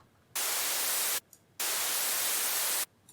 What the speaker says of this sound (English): Serum outputs white noise through its noise oscillator right here.